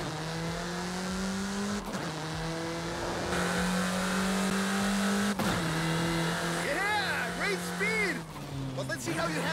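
In Forza Horizon 5, a car engine accelerates with a loud, sustained, rising drone, dipping briefly at gear shifts, while higher warbling squeals come near the end.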